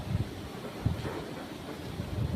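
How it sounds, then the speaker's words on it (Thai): Strong outdoor wind buffets the microphone in a steady, rumbling roar with low gusting thumps throughout. "ลมโคตรแรงเลย"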